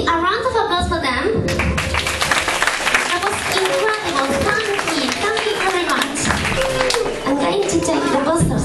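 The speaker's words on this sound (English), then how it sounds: "A round of applause for them." Children's stage show for third and fourth graders: a round of applause for the young helpers, dense clapping and tapping running steadily throughout, mixed with children's voices and busy music-like tones.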